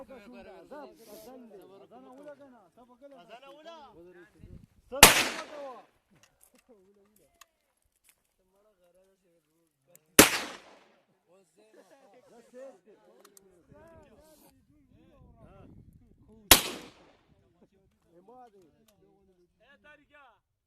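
Three loud, sharp gunshots ring out several seconds apart, each cracking sharply above people talking between them.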